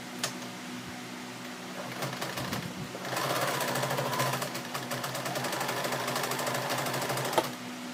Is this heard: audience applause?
no